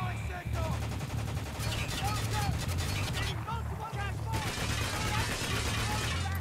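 Sustained automatic fire from a mounted turret in the shooter Spec Ops: The Line, a dense rattling stream of rapid shots with brief breaks, loud and close amid battle noise.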